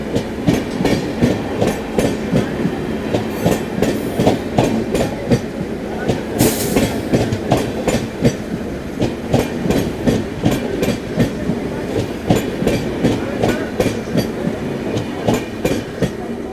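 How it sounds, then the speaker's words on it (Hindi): Kanpur Shatabdi 12033 passes the Amrit Bharat Express at close range, its wheels beating a loud, rapid, regular clickety-clack over rail joints with steady rolling roar throughout. "Kanpur Shatabdi overtaking Amrit Bharat express finally"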